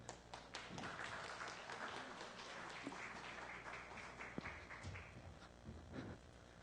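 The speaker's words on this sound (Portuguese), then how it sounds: "Vamos bater umas palmas aí pra..." Community applause at a free-software musicians' meetup, a faint, continuous patter of clapping hands from a modest crowd with scattered sharper claps and soft murmuring.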